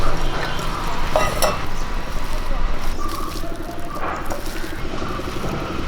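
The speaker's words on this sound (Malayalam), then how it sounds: "ഒരു ശകലം വെള്ളം കൊടുത്ത് നമുക്ക് നല്ലപോലെ ഒന്ന് ഇളക്കിയെടുക്കാം" Ivy gourd pieces being mixed by hand or spoon with pepper powder, rice flour, curry leaves and a little water, giving a close, steady wet squelching and stirring sound while a person talks over it.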